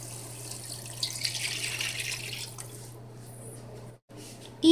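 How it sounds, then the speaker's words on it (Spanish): Water pours from a faucet-like stream into a pot of seared beef, onion and garlic for stew, a steady close splashing that tapers off and stops near the end. "Ya que la carne está bien sellada, agregamos el agua."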